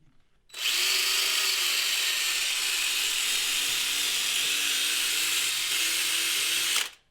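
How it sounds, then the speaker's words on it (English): A power drill bores into a wooden snowshoe frame, a single continuous high-pitched whine that starts abruptly, holds steady and close for about six seconds, then cuts off. "we're going to drill the others"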